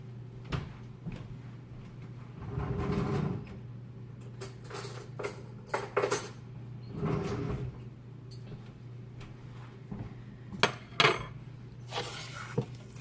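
Metal utensils and dishes clatter in a kitchen while a larger spoon is fetched to make a chocolate strawberry scrub, with scattered clinks, taps and a cupboard thud over quiet room tone.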